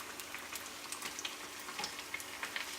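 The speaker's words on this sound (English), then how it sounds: "so while our fish is frying" Faint, steady crackling and popping of fish frying in oil, with small irregular spits throughout.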